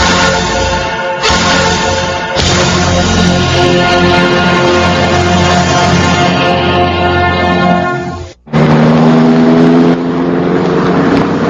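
A car engine revs loudly and up close in a radio-drama sound effect. It builds through long rising surges, cuts out abruptly for a moment, then roars back, with no talk.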